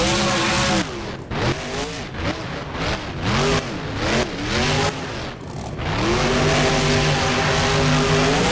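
A truck revs hard as it swings around and climbs a racing ramp at a BMX fairground freestyle show, the loud engine rising and falling in repeated surges with a brief dip before a steady sustained roar.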